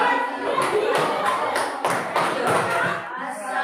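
A classroom audience applauds a student group after their environmental presentation, a steady burst of many hands clapping with some louder thumps, close and fairly loud throughout.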